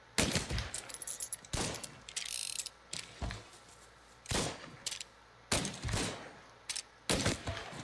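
Gunfire in Mafia Definitive Edition, a string of irregular sharp gunshots and short bursts with brief gaps between them, close and fairly quiet.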